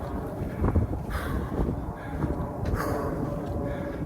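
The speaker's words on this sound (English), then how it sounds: "Good thing there's some wind blowing." Outdoor wind on a hot, sunny hike near a summit, rumbling and buffeting steadily across the microphone at moderate loudness with gusty swells and no talk.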